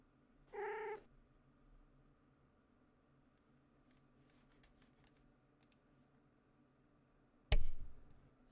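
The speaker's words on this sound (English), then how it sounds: "Oh my god, so many cats!" Cats in a game scene meowing: one short, clear meow near the start, then soft scattered clicks and a sharp burst near the end.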